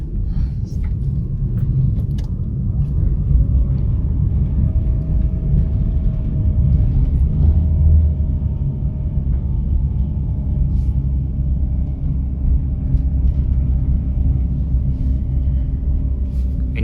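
A car engine labouring in second gear up a steep mountain road, a loud, steady low rumble throughout with a constant drone.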